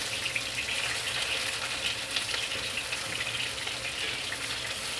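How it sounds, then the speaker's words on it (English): Fish fillets sear in a pan, giving a steady, close, broadband sizzle that holds even for the whole stretch with no talking. "I'm flipping it a little bit often to try to get all sides, a little sear on all sides."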